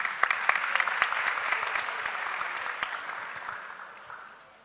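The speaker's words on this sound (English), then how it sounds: "May I also may I encourage you to have another round of, of applause for Wendy." Symposium audience clapping in a hall, a dense round of applause from many hands that starts full and gradually fades out, with no speech over it.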